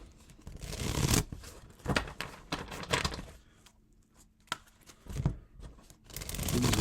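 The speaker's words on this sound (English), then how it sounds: "Let's get a couple of shuffles here" Tarot cards being shuffled by hand, several quick riffling bursts in an irregular rhythm with short pauses between, close and fairly soft.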